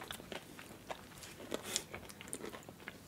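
Crunchy chocolate tablets from a Nantes chocolatier, Vincent Guerlais, bitten up close: a string of crisp, quiet snaps and crunches at an uneven pace, with no talking.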